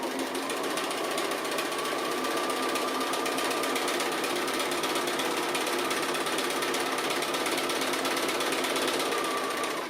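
A sewing machine stitches an appliqué piece along a fabric edge, a continuous fast mechanical whir and clatter running loud and unbroken throughout.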